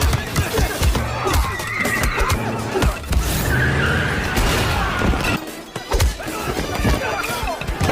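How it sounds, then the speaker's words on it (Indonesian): A white car arrives in a film scene with tires skidding, a harsh screech over engine noise and crunching impacts, busy and loud throughout, with a brief drop in sound before the noise resumes. "datanglah sebuah mobil warna putih yang datang untuk menyelamatkan mereka"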